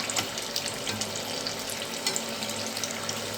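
Samosas frying in hot oil give a steady, dense crackle and bubble that runs unbroken, loud and close, with no one talking.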